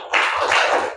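Brief burst of classroom applause for a student in a primary science lesson, a short cluster of clapping hands with a quick onset that fades within a second.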